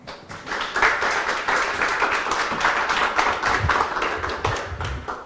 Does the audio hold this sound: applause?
yes